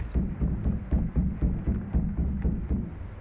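Footsteps of a character overhead in the video game Fortnite thud in a steady run rhythm, about a dozen muffled, bass-heavy impacts, fairly close and continuous with no voices.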